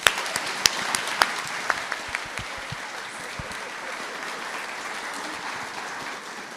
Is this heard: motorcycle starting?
no